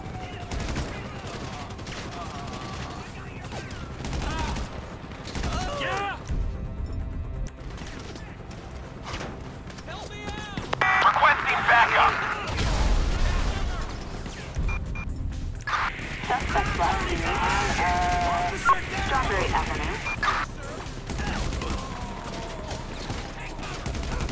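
Gunfire rattles in GTA 5 during a shootout with police on Strawberry Avenue, repeated volleys and booms over a busy game soundscape, with talk over it.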